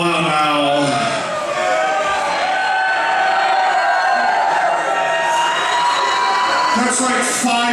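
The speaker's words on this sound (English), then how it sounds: "That's like five fucking people cheering for the new album." A metal concert crowd at a show in Pittsburgh cheers and screams steadily and loudly, with a voice speaking over it on the PA.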